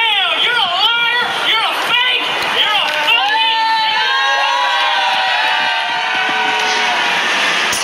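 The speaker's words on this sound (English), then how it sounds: "you could hear the crowd obviously was not pleased with what he was saying" A displeased crowd at a rally shouts and jeers, with loud overlapping voices, whoops and rising yells up close, settling into sustained mixed shouting and chatter.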